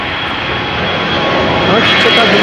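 An Airbus A319 jet bound for Copenhagen takes off from Amsterdam Schiphol, a loud, steady, close jet engine roar that swells slightly, with a commentator talking over it.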